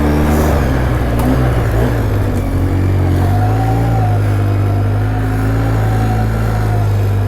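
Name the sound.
2012 Polaris Sportsman 800 EFI ATV driving on wet ground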